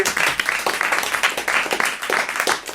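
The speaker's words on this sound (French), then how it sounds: "on vous remercie, on vous applaudit monsieur Furet" Studio audience on a French radio talk show applauds in a steady, fairly close round of clapping that pulses slightly in waves and runs the full few seconds with no talk over it.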